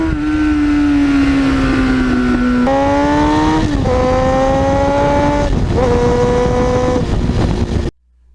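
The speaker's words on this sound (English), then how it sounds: "when you're under full throttle, it really does get loud" A 1989 Kawasaki GPX750R motorcycle engine screams at full throttle, loud and close, its pitch climbing through several gear changes before cutting off abruptly at the end.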